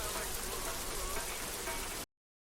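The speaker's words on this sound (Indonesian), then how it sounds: "Di tengah hujan deras" Heavy rain pouring in a dense, even hiss for about two seconds, then cutting off abruptly into silence.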